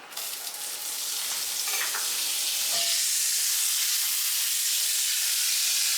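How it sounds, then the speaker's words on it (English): Butter hits a hot pan and erupts into a loud, close sizzle that swells within the first second and then holds as a dense, steady hiss. "I'm gonna toss a little butter on here."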